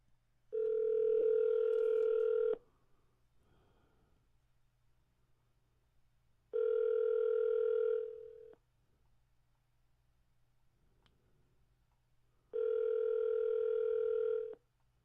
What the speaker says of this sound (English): And Alexa, call double K